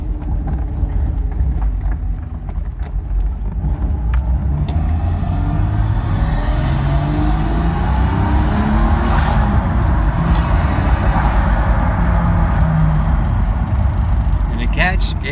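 A car with a stock RB25DET engine running blow-through MAFs accelerating hard, a steady loud in-cabin engine and road drone with rising tones, constant and close throughout.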